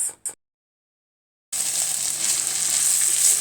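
Chicken livers frying with onions in a pan give a steady, close sizzle. It starts after two short bursts and a second and a half of silence, then runs on with no voice.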